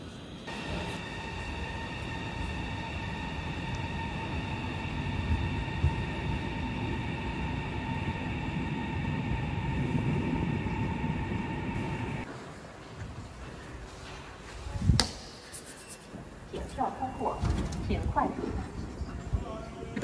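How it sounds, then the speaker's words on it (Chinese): A Fuxing high-speed train arrives at a station with a steady rolling rumble and tonal whine that cut off abruptly, followed by a sharp clunk and faint station noise as a voice speaks. "复兴号列车高铁现在到。"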